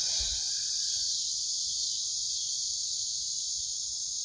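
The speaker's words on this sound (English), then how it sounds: "It's so nice and peaceful back here. You hear the cicadas." Cicadas drone in a loud, continuous high-pitched buzz that never lets up, steady and unbroken throughout.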